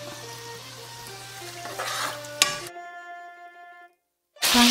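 A pan of sauce for pan-fried yellow croaker sizzles steadily after about two tablespoons of cold water are added, then a hum with ringing tones, a moment of silence, and a loud burst of sizzling at the end.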